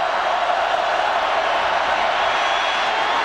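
A large football stadium crowd of 84,000 at Owen Field during the 2005 Baylor at Oklahoma game gives off a loud, steady roar that holds unbroken throughout.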